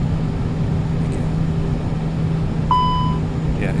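A single short electronic low engine oil pressure warning beep from a bus dashboard sounds once over a steady low engine hum.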